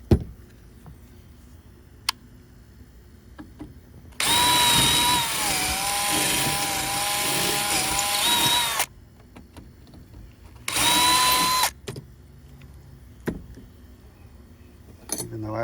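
A power drill whines in two bursts, one long and one short, close and loud, as a leftover rivet barrel is drilled out of the trim on an Alcort Catfish sailboat, with quiet handling noises between.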